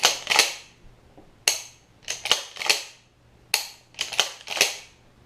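A pump-action shotgun's slide racked back and forth repeatedly in a function test, giving sharp metallic clacks in close pairs and clusters, loud and up close with quiet gaps between.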